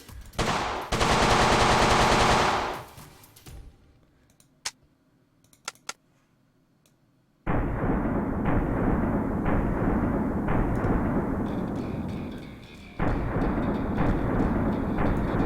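Simulated machine gun in the World of Guns game, a loud sustained burst, a pause with a few clicks, then two more long rattling bursts of automatic fire at close range.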